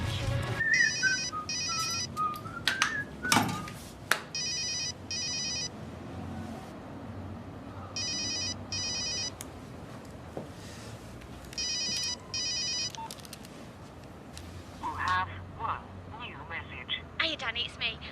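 A mobile phone ringtone plays in repeated electronic bursts of about a second each, with short pauses between them, ringing several times while people move around and talk nearby.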